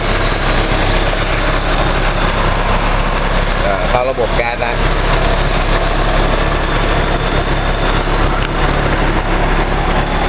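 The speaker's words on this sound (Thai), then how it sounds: "ตอนนี้เครื่องยนต์ทำงานแล้วนะครับ" A gas-fuelled car engine idles steadily and loudly nearby, with someone speaking briefly over the constant hum.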